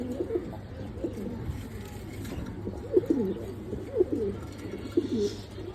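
Pigeons kept at a home loft coo in soft, low, repeated phrases, several calls overlapping near and far over a faint background hum, with no talking.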